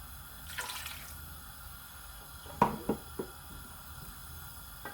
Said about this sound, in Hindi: इसमें तकरीबन मैं आधा कप और डालूंगी पानी।